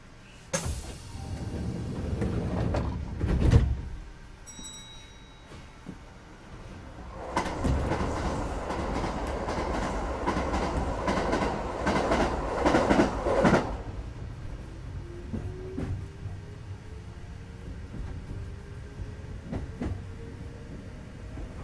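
Kintetsu Nagoya Line train running from Kintetsu-Nagoya toward Kintetsu-Tomida, heard from inside the car: motor hum and wheel noise swell, a loud rumbling stretch, then quieter running with a rising motor whine.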